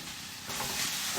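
Potatoes go into a frying pan already holding beef, onions and spices for a beef pitha filling, and a bright sizzle jumps up halfway through, then continues steadily with light stirring.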